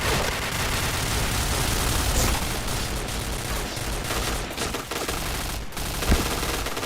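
MP7 submachine gun fire in the shooter game Point Blank, continuous dense automatic bursts filling the whole stretch, loud and close, with no voices.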